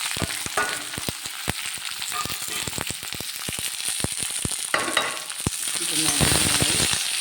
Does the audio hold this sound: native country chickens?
no